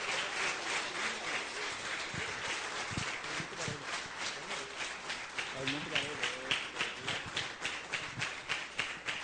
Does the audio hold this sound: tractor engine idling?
no